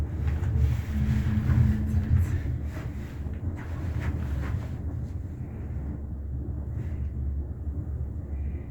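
Strong wind during a snow blizzard at Mammoth Mountain, a loud continuous roar buffeting the microphone, heaviest in the first seconds and then easing to a steadier rushing noise, with no voices.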